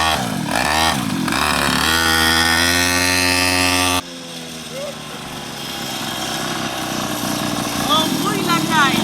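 A small mini motorcycle engine revs hard and loud up close for several seconds, its pitch climbing, then drops to a rougher, lower running note while voices talk over it.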